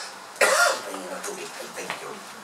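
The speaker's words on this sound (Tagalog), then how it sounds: "Ubo ako ng ubo." A single loud, harsh cough bursts out near the microphone during a sermon, followed by faint throat sounds and a quiet room.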